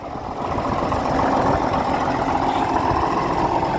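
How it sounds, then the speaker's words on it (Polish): An Ursus/Massey Ferguson 3080 tractor engine idles close by, giving a steady, loud diesel chug with a rough knocking rumble that holds even after a brief rise at the start, with no talking. "Silniczek pracuje bardzo ładnie, naprawdę."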